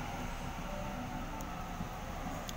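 A Sydney train arriving at Toongabbie station, heard as a steady low rumble with a faint squeal and a couple of brief high metallic ticks.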